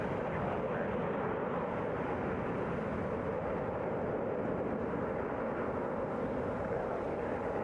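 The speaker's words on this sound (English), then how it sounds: "Arriving. Delta 815 coming from Dallas Fort Worth. Airbus A321." A Delta Airbus A321 arriving at Atlanta airport from Dallas Fort Worth, heard as a broad, steady jet roar that holds at an even level throughout with no voices.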